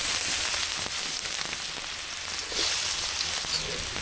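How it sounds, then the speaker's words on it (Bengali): Onions frying in oil left from frying fish, with whole garam masala, a steady wet sizzle and crackle close by, continuous and fairly even throughout, with no talking. "পেঁয়াজ ভাজা হয়ে গেছে,"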